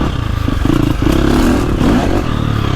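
KTM 350XCF dirt bike with a 350cc four-stroke engine ridden with the clutch slipped in second gear, giving a loud, close, steady drone with rising and falling revs and some clatter.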